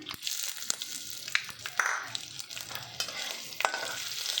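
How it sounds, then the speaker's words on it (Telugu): Spices, a dry red chili and ginger pieces crackle and sizzle in hot oil while a spoon stirs and scrapes the pan with several sharp clicks, close and fairly loud. "తాలింపు దినుసులు వేగాయండి, అందులోకి ఒక ఎండుమిర్చిను, అల్లం ముక్కలు వేసుకుందాము"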